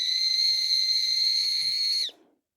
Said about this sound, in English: But it's also a whistle